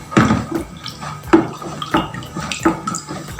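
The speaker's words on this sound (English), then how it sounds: "I'm still mixing it for it to completely dissolve into the 500 mils of water." Caustic soda being stirred into 500 ml of water for liquid soap: watery swishing with repeated sharp clinks of a utensil against the container, no voices.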